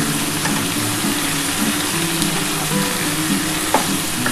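Onions frying in a pan for a Bengali ridge gourd and potato poppy-seed dish, a loud, close, unbroken sizzle with a few faint stirring clicks and no speech.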